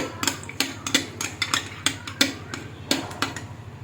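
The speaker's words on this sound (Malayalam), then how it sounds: "ചേർത്തതിന് ശേഷം നമുക്കൊരു സ്പൂൺ വെച്ച് ഇതിനെ ഇളക്കി കൊടുക്കണം" Spoon clinking against a pan while stirring banana stem thoran, a Kerala stir-fry, giving a series of light metallic taps in an irregular rhythm, close and moderately quiet, with no talking.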